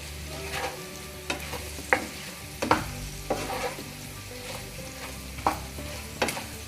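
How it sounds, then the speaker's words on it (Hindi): Potatoes coated in spices stirred in a pan over a very low flame, with a steady soft sizzle broken by repeated scraping strokes of a spoon every second or so, close and moderately loud, no voices. "सब मसालों को अच्छे से आलू में हम कोट कर देंगे।"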